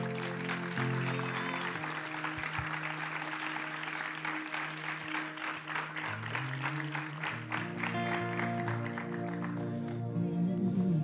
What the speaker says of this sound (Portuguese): Se você puder, aplauda bem forte ao Senhor.